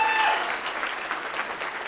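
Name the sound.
applause for a speaker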